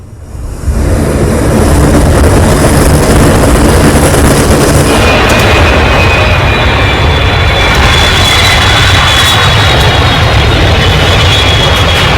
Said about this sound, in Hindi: ये श्रीलंका में लैंड हुआ है राहत का सामान लेकर।